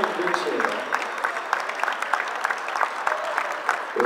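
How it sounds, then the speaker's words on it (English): Wedding guests at a reception applauding the best man, a lively round of clapping from a roomful of people with a few louder individual claps standing out, lasting about four seconds. "bring a round of applause for our best man, Mr. Brian Beecher."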